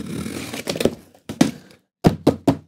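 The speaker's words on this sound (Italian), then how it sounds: "Taglierino." A box cutter slicing open the packaging of a Mapex Black Panther snare drum, heard as a close series of sharp cracking cuts and thunks in short bursts with pauses between.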